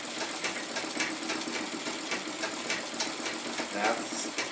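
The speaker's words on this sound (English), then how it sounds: "my stitch regulation is happening based on how fast I move my foot on the treadle and how fast I move my hands to move the fabric" Treadle-powered sewing machine stitching embroidery, a steady close mechanical whirring and rapid rhythmic clatter of the needle running continuously, with a person talking over it at times.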